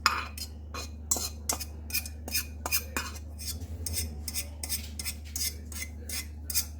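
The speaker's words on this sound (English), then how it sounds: "I've drained them, and I'm going to go ahead and add them into our sauce" Drained pasta noodles tipped into Alfredo sauce in a pan, with a long run of sharp, close metallic clicks and clinks from a utensil against the pan, fairly steady and quick, with no voices.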